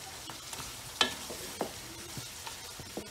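Tomatoes stirred in a pan of frying oil, a few spoon scrapes and knocks over a steady, soft sizzle, with no one talking.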